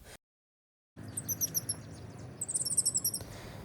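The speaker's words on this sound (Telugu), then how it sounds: "చెరువు కట్ట మీద వాకింగ్ చేసేటప్పుడు ఈ పిచ్చుకల సౌండ్ బాగుంటది" Sparrows chirping by a pond embankment, quick bright twittering bursts in two clusters over a low steady outdoor hum, moderately near.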